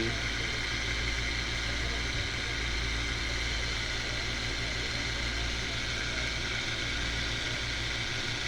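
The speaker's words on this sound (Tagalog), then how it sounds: "ang motor natin maingay" The motor of a TCL air-conditioning unit with an E0 error, after a diode repair, runs noisily as a steady, loud, unbroken hum and whir that holds level throughout.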